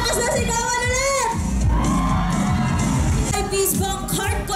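A crowd at a university fair concert shouts and cheers loudly with whoops and yells, a dense continuous roar close by.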